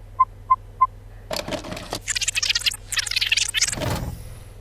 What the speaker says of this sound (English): Each one is worth 100 points and sounds like this.